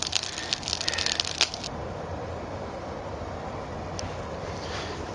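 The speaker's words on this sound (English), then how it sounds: "Love the crackle of the salt in the kiln." Salt crackling inside a gas- and wood-fired soda kiln, a burst of sharp crackles and pops over the first second and a half, then a steady roaring hiss of the burning kiln with one more brief crackle.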